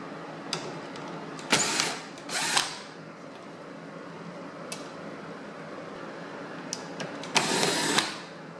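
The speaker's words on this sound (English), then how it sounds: "You'll find two Phillips screws underneath that you'll need to remove." Screws backed out of a Chevrolet Cruze taillight with a Phillips driver, heard as a few short whirring bursts of a power driver in a quiet setting, with soft clicks and handling noises between them.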